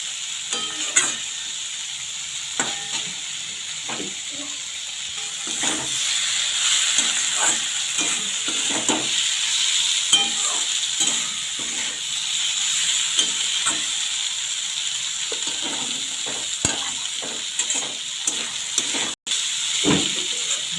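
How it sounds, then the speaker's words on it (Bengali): Fenugreek greens and eggplant fry in a pan with a steady, close sizzle and hiss, while a spoon scrapes and stirs in frequent short clicks throughout; no one talks. "বেগুনটা দেওয়ার পরে বেশিক্ষণ ভাজতে হবে না, একটুক্ষণ ভাজলেই হয়ে যাবে।"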